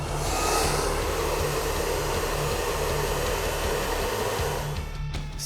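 In a barbershop, a blow dryer drying hair blasts a loud, steady airy whoosh with a low motor hum. Near the end it cuts off briefly and then falters.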